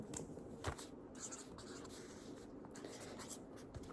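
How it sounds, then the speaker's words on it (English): Pen scratching across paper as something is written down, a soft continuous scrape with a few sharper strokes, close and quiet with no speech. "I just want to write that down."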